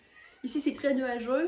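A house cat meows several short times, close to the microphone, with someone speaking French over and around the calls indoors.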